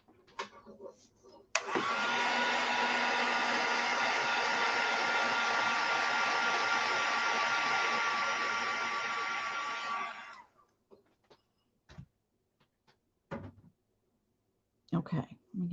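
A hair dryer blows hot air onto wet paint on a craft door hanger, a loud steady whirring roar lasting about nine seconds before switching off, followed by a few faint handling knocks.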